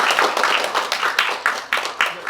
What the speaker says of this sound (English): We want to hear from them. A bit of a clap.